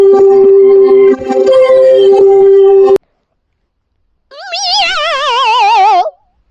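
A cartoonish cat meow in a funny meme soundtrack: a sustained tonal note first, then after a short silence a single loud, wavering, drawn-out meow close up.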